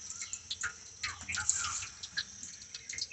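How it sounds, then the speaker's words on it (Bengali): Water runs up into a tank at a village house, a faint trickle with small drips and splashes, quiet and close, with light background noise and no voices. "জলটা একটা ট্যাঙ্কিতে উঠছে।"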